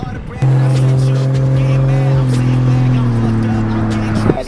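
Toyota Supra engine running with a steady, loud tonal drone that drops slightly in pitch midway, heard close up with some background noise.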